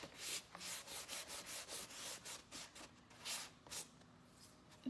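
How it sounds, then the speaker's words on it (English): Sandpaper lightly buffing black paint, a steady run of quiet, close scratchy back-and-forth strokes in an even rhythm, heard alone. "I'm just gonna take my sandpaper and"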